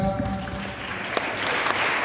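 Clapping rises from a church congregation, a brief dense patter of many hands that carries on evenly without breaks.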